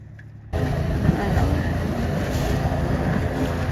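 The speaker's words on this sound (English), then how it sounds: "we took a small boat ride at sunset, hoping to catch a glimpse of dolphins" Small boat cruising on the sea at sunset, its steady engine rumble and rushing water starting abruptly and then holding loud and constant, close by with no talk.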